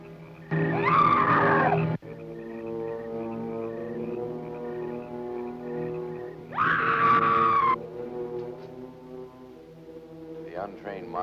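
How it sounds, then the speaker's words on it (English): Scream of a white ghost in an old horror film set near a bell tower in an ancient cemetery: two loud, drawn-out wailing howls over a sustained eerie organ-like drone, with a fainter wavering cry at the end. "it is the scream of the white ghost"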